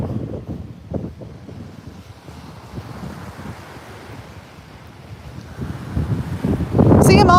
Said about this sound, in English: So it's a bit windy, guys